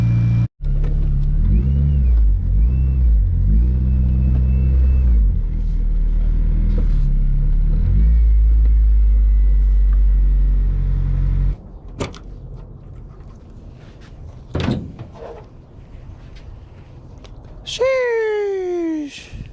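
A right-hand-drive Honda Civic wagon with a K20 engine and no turbo fitted idles steadily after finally starting, a loud low drone under occasional talk, then fading as clanks and a rising whine follow.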